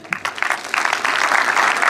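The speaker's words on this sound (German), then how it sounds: "Mei, der kriegt einen großen Applaus," An audience at a humorous documentary slideshow premiere breaks into applause, starting with scattered claps and swelling into steady, dense clapping from a full room.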